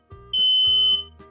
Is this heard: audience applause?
no